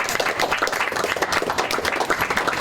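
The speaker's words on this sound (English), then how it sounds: "Give her a round of applause." Audience applause at a historic tavern talk, a dense continuous patter of many hands clapping at moderate volume with no talk.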